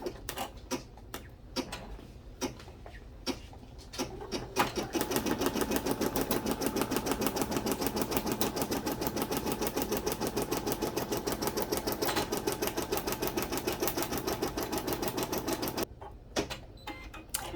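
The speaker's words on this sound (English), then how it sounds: "I'm going to run that first stitch, which is again that placement stitch." An embroidery sewing machine runs a placement stitch, starting after a few scattered clicks and then hammering out a steady, fast needle rhythm for about eleven seconds before stopping abruptly, close and fairly loud with no talking.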